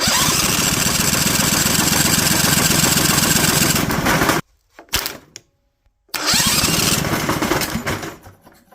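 An 18hp Vanguard engine cranks loudly and steadily, stops abruptly, gives a brief sputter, then cranks again in a second long burst while its fuel pump is being tested.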